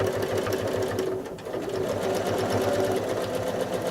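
Sewing machine running steadily for free-motion quilting through layered fabric, a fast even mechanical stitching rhythm, close and continuous with no talk.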